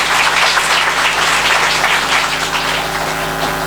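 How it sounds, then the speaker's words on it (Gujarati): An audience claps at the inauguration of a new church dedicated to Mother Teresa in Isnav, with dense, sustained applause filling the room and fading only slightly toward the end. "હા, તો આપણે તાળી પાડીએ નહીં?"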